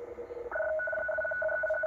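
Radio teletype data signal received on a Tecsun H-501X shortwave receiver in sideband mode near 12120 kHz, a steady two-tone warbling data carrier, loud and continuous, shifting tone partway through.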